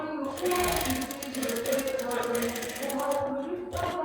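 Sewing machine stitching a chain onto the leg of a salwar, a fast steady mechanical whir with rapid needle clatter running almost throughout, briefly pausing near the end, with a voice talking over it.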